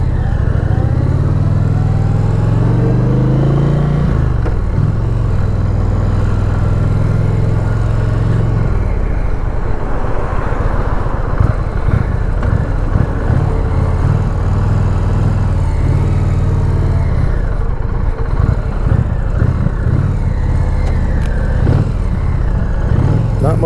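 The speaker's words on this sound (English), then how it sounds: "you're sitting right on top of a motor. I guess that's what they call it, a motorcycle" A cruiser motorcycle, an Indian Challenger or Harley-Davidson, idles and revs in a sandy, potholed parking lot, its engine rumbling loud and close with rising and falling throttle blips throughout.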